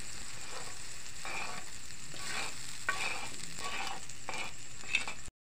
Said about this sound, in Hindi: ये मसाला जो हमने बनाया था इसको हमने इस एग में मिक्स कर लिया पहले अच्छे से